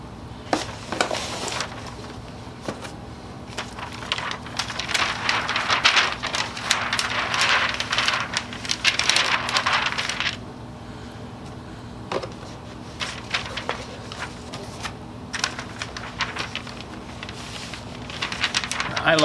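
Wrapping paper is folded around a present, giving bursts of crinkling and rustling that come and go over a low background hum.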